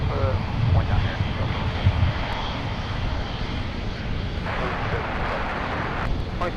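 A Delta heavy jet taxis at Minneapolis airport, its engines a broad, steady roar throughout, with radio voices talking over it.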